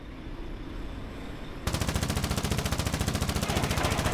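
A disabled logistics truck in the Foxhole video game splutters with a rapid, steady mechanical stutter that bursts in loudly partway through and keeps pulsing evenly to the end, after a stretch of low rumble.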